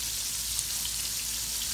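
Squash sizzles in a hot pan with a continuous, even crackle like light rain, close and moderately loud.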